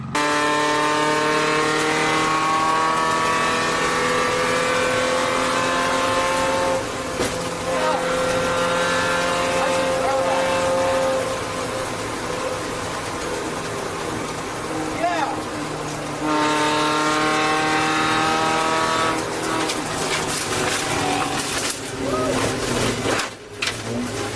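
A ChampCar endurance race car laps the Nelson Ledges track, its engine droning loud and steady from inside the car, with pitch rising and falling through gear changes around the middle and near the end.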